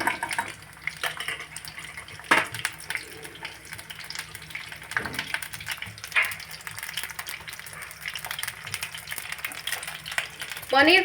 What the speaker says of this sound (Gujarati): પનીરને ફ્રાય કરીશું